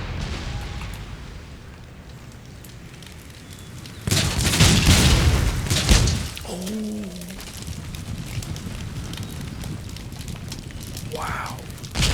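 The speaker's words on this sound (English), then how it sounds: "One more volley now." A musket volley fires in Empire Total War during a siege battle for Madrid, a loud crackling burst of shots, with quieter battle noise, bird calls and a voice before and after.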